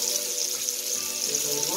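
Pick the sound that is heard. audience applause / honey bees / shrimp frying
shrimp frying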